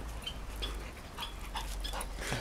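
A dog pants in quick, soft breaths and lets out several short high whimpers, fairly close and quiet against a low background hum.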